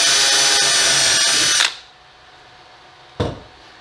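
Power drill running a 1/4 inch bit into wood in a CNC woodworking shop, a loud close whine for over a second, then stopping, followed by a short second burst.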